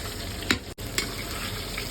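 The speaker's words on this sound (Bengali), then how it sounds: "রুই মাছ ভাজা।" Rohu fish sizzles steadily in hot oil, a constant close crackle broken by a couple of brief louder spatters.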